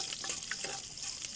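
Food sautéing in a small pan for a mung bean dish, a brief, steady close-up sizzle with soft stirring crackles and no voices.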